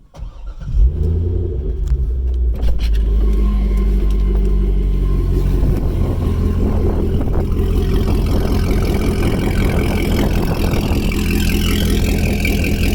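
C6 Corvette V8 with gutted factory catalytic converters running straight back to Corsa Extreme mufflers, starting up with a sharp crank and bark, then settling into a loud, deep, steady rumbling idle.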